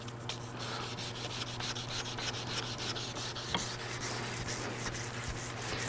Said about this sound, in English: Hand sanding shouldn't take that long if your grinding lines are good.